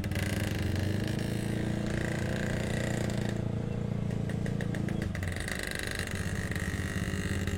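Motorcycles and cars idle and rumble in a heavy Cirebon traffic jam, a constant loud low engine drone with a brief shift in tone midway, no talk.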